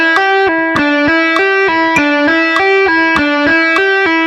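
Electric guitar repeating a fast blues rock lick in even, clipped note groups, loud and slightly driven, with a sharp click marking each beat throughout.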